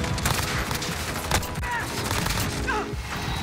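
The Grau assault rifle in Modern Warfare fires in a dense, continuous stream of loud, rapid gunshots, dominating the mix at close range with battle noise around it.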